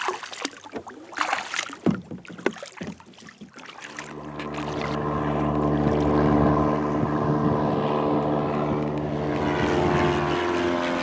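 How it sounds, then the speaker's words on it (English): Some nearby knocks and splashes on the water, then a float plane's steady droning propeller engine swells in and holds loudly as it passes overhead. "a nice surprise with a float plane"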